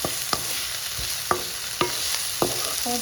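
Ingredients are coated and lightly fried in oil, a steady close sizzle broken by five sharp spoon scrapes and clinks against the pan at regular intervals.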